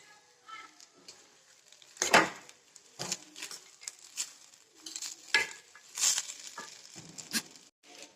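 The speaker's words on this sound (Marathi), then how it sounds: "जसं आपण कांद्याचे करतो तसं टोमॅटो पूर्ण भाजू द्यायचा चांगला शिजू द्यायचा" Tomatoes frying in a pan for leftover-rice tomato rice, with intermittent stirring scrapes and clinks of a spoon against the pan over a soft sizzle, close and fairly quiet.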